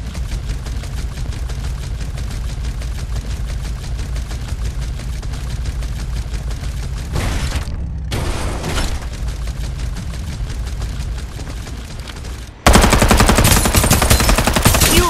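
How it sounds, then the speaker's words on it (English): Sustained rapid automatic gunfire in the video game Farlight 84, loud and continuous, with a brief break and then a harsher, louder burst near the end. "Ran right into my line of fire."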